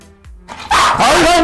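A pet dog barks aggressively at its owner in a home, a few loud, close, harsh barks bursting out after a brief quiet moment, with no talking over them.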